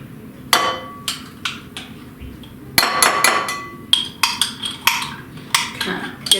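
A utensil scrapes Old English cheese spread out of a glass jar, with a run of sharp clinks and knocks against the glass, some in quick clusters, close and fairly loud.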